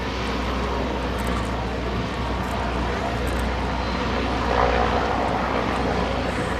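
Engines and propellers of the Airship Eureka drone steadily in flight at an air show, a loud, continuous broadband hum with a faint rise toward the end and no pauses.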